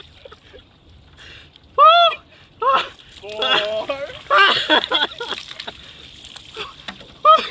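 A bucket of ice water is poured over a person in several sloshing, splashing bursts, with excited whoops and shouts between the pours.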